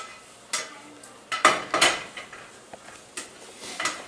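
Spoon scraping and stirring melting cheese with lobster and eggs in a metal pan, a series of close, sharp clinks and scrapes spaced irregularly, with a faint sizzle underneath.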